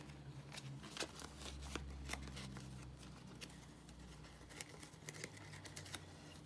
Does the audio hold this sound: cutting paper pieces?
yes